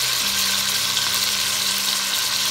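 Steady, loud sizzling of steak frying in hot oil for pepper steak, a continuous crackling hiss close up with a faint low hum beneath.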